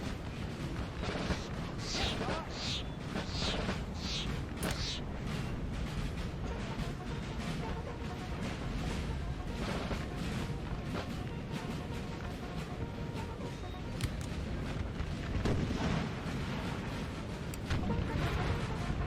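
Musket volleys in a Napoleonic Total War 3 multiplayer battle: a continuous, fairly distant crackle and rumble of massed gunfire with scattered sharper pops, rolling on without a break.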